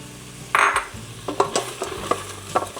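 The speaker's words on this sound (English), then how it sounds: "Give it a good mix." A spoon stirs spices through food in a pan, with a sharp scrape at first, then a run of light clinks and scrapes against the metal over a soft sizzle.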